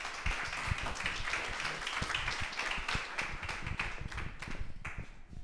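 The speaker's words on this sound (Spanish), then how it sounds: "Un aplauso." Conference audience applause breaks out after a speaker is introduced, a steady, fairly distant wash of many hands clapping that carries on for the whole span.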